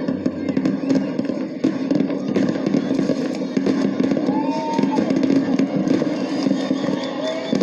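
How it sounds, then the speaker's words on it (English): Dense, continuous crackling and popping of fireworks bursting, with occasional whistling rises, loud throughout and no clear speech. "I think they're watching fireworks"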